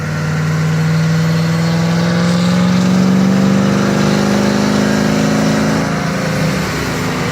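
A supercharged Ford Crown Victoria's engine runs loud and steady on a dyno, holding high revs with a rising, droning tone that sustains throughout before easing slightly at the end.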